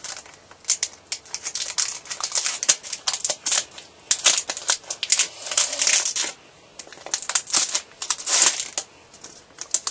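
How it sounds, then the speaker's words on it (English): Pokemon Black/White Boundaries Crossed booster pack being torn open, close crinkling and ripping foil in irregular bursts with sharp crackles scattered throughout. "So now, I'm gonna open the booster pack."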